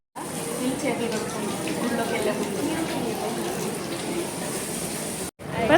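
Water runs steadily through a shallow foot-washing channel at the entrance of the Golden Temple in Amritsar, a continuous close rushing wash that fills the whole clip before a brief cut near the end.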